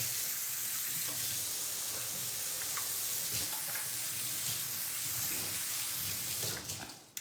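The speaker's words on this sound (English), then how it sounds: "Let me wash my hands real quick." Running tap water pours steadily into a kitchen sink while hands are washed during shrimp and asparagus prep, a continuous close hiss with faint splashes and no talk, cutting off abruptly at the end.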